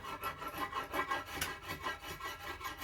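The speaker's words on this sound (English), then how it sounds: "So right there I'm taking off the sort of corky first layer of wood that's underneath the cadmium." A blade rasps rhythmically over ash wood, stripping the corky layer beneath the bark of a longbow in steady close scraping strokes with no talk.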